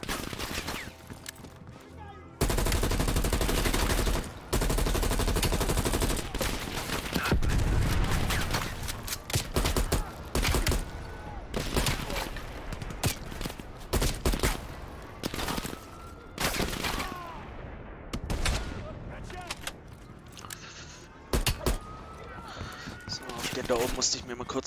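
Sustained gunfire from the Call of Duty: Cold War singleplayer campaign: dense rifle bursts and explosive booms fill most of the stretch, growing sparser toward the end, with a voice talking over the action.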